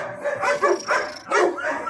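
A dog barks during a training session, giving a few close, loud, rapid yapping barks in quick succession with short pauses between them.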